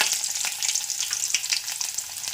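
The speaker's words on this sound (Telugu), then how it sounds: "ఇప్పుడు పచ్చడి తాలింపు పెట్టి మీకు చూపిస్తాను వెల్లుల్లి వేసానండి" Garlic sizzling and crackling in hot oil, a tempering for a mango and coconut chutney, with a steady bright frying hiss and small popping bursts throughout, close and fairly loud.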